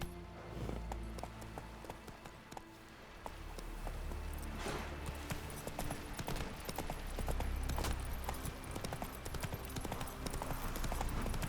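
Rapid clip-clop of a horse galloping in The Witcher 3: Wild Hunt, a steady drumming of hooves close by over game ambience and music, with brief background voices.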